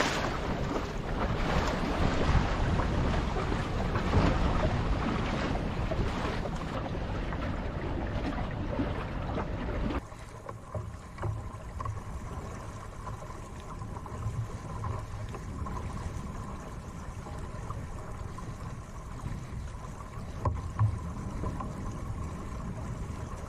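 A sailing boat moves along the River Lynher with a steady rush of wind and water. The sound is louder and fuller at first, then settles into a quieter, continuous wash.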